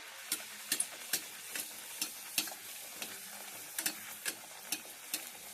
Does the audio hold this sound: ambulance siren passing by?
no